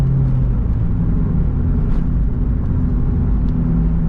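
A 2000 Jeep Cherokee XJ engine easing off under cruise control, heard as a loud, steady low rumble from inside the vehicle that holds level throughout with no voices.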